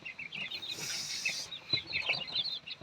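Bantam chickens clucking and cheeping in a quick, busy chatter, fairly close, with soft rustling in the background.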